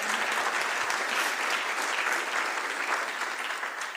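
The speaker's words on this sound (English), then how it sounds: "Also, you may clap now." Audience applause fills a conference hall during the 2019 Nextcloud opening keynote, a steady, dense wash of many hands clapping at even loudness for about four seconds, tapering slightly at the end.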